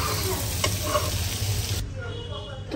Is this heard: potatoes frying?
yes